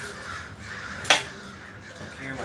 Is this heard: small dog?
no